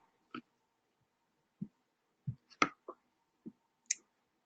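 Computer mouse clicks while logging in to a website: a handful of sharp, isolated clicks spaced irregularly over a few seconds, close and quiet, with no talking.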